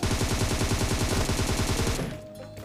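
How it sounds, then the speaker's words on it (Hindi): Rapid, continuous automatic gunfire from a video game rattles loudly for about two seconds, then cuts off, leaving a quieter background hum. "वो गोली चला रहा है"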